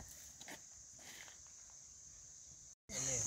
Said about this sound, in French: c'est les abeilles